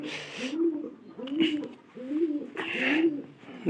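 Pigeons in a newly re-paired couple coo in a close, steady series of about four rolling, throaty phrases, with soft rustling bursts between them.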